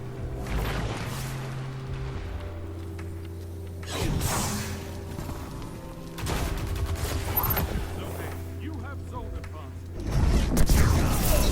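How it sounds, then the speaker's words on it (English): Two heavy Nova Bomb detonations in a Destiny 2 Crucible match, each a loud booming burst with a whooshing tail, set among ongoing game noise and gunfire, with a voice talking at points. "Double Nova Bomb."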